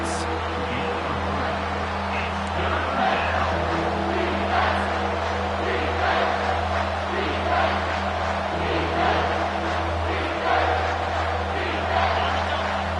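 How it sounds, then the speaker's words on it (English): A stadium crowd in the video game NCAA 25, during an Alabama versus Ohio State football game, roars in a steady, dense wash of cheering that swells slightly throughout, with a broadcast commentator talking over it. "This crowd rising up, sensing that its defense needs some help."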